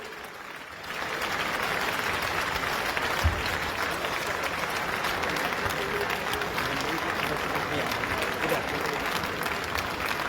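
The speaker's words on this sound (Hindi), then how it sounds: "जब तक मैं गमछा भेंट ना हो जाए तब तक ताली बजाते रहिए।" Sustained applause from a large audience fills an indoor stadium at a political party gathering in New Delhi, a dense, even roar of clapping that starts within the first second and continues without pause.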